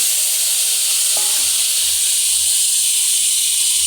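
Potatoes frying in hot oil with cumin seeds, dried red chili and bay leaf, giving a steady, loud, continuous sizzle and hiss with faint low clatter, no voices.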